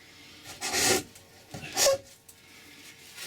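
A wood chisel scrapes across a wooden surface in two short, close rasping strokes separated by a pause, with no talking.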